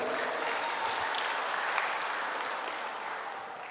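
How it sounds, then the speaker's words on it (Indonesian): A gathering at an Indonesian Halal bi Halal religious talk gives steady, moderately loud applause, an even wash of clapping hands that continues without a break and fades slightly near the end. "tepuk tangan"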